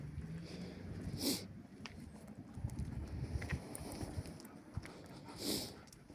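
A dog trots along on a walk, its paws making a steady, quick ticking patter over continuous outdoor background noise, with a couple of brief louder swells.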